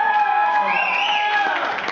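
A concert crowd cheers, whoops and hollers loudly at close range during a vote between songs, with a steady roar and no clear claps.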